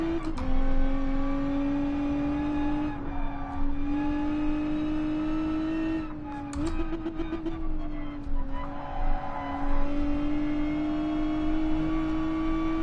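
A Lotus race car driven on the Nordschleife in GT Sport, its engine holding a steady high-pitched drone with brief dips and rises as gears change, loud and close, with occasional talk over it.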